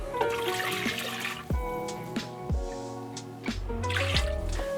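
Liquid pours and splashes into a pot of braised pork belly for kakuni, a steady watery rush with bubbling and dripping, clear and close.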